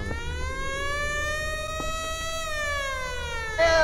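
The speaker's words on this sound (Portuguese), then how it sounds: "Ambulância besta!" A video game ambulance siren wails in a long, slowly rising tone with rich harmonics, loud and steady throughout, with a brief burst of another noise at the very end.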